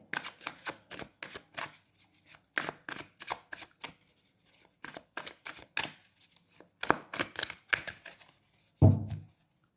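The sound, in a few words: shuffling tarot cards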